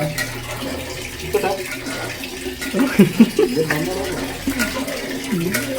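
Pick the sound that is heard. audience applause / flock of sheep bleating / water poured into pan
water poured into pan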